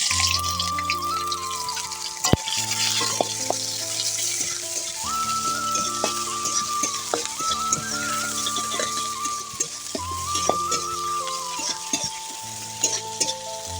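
Onions tossed into hot oil with sugar that has turned red and caramelized, giving a continuous loud sizzle with occasional stirring knocks, under steady tonal background music.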